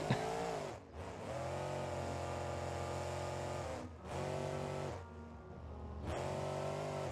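Monster truck engine with zoomie exhausts in BeamNG.drive, a steady droning roar held at high revs in long sustained pulls, dropping briefly between each of three rev cycles.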